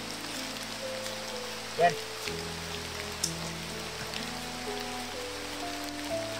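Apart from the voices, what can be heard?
heavy rain getting stronger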